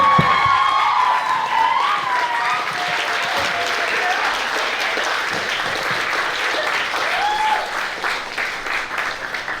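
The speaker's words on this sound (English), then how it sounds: "Can we all get a standing ovation for my baby cousin?" Sustained applause from a large crowd of guests at an 18th birthday party, steady clapping with scattered cheers and a few faint voices throughout, tapering slightly toward the end.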